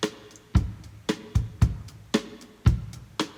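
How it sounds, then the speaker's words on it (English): Sparse drum rim shots in a calm, laid-back beat, about eight sharp clicks spaced unevenly over a few seconds, crisp and close with short decays and no voices. "It starts with some rim shots."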